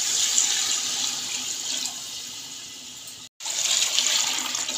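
Water poured from a tap into a pot of rice for Muradabadi chicken biryani makes a steady, bright rushing splash that breaks off for a moment and then resumes, close and with no talk.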